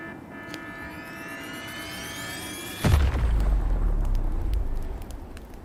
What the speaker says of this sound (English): Mengzhou's last defenders detonated the entire Yuan fortress